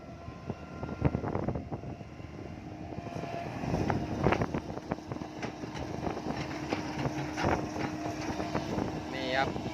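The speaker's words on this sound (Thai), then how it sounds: "โอ้ลมแรงลม เริ่มมาแล้วฝนเริ่มมาแล้ว" Strong gusty wind blows just before rain at a newly dug pond site, making a broad rumbling roar across the microphone throughout, with someone talking over it.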